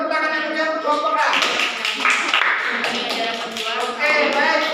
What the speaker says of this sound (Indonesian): Oke, beri tepuk tangan yang punya kelompok A.